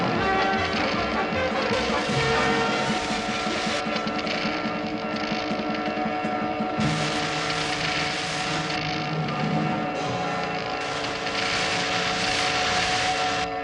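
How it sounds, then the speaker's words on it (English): Jet engines roar loudly on a Thunderbirds rescue craft in a race-against-the-clock scene, a sustained, powerful whine and rumble that surges in waves and stays dominant throughout, with no talking over it. "Try the jet now, Virgil."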